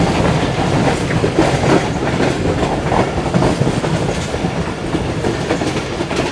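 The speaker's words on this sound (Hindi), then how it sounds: "आखिरी डब्बा देख रहे हैं कैसे गुजरता है यहाँ से।" The Karakoram Express rushes past at speed, its last coach going by with a loud, steady clickety-clack of wheels on rails and a broad rumbling roar close by.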